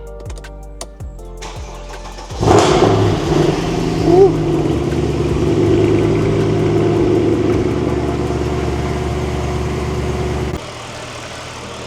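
A Mercedes C63 AMG 507 Edition V8 cranks and fires with a loud bark, then settles into a steady, rumbling idle close by, with a brief voice at the start and a faint cheer.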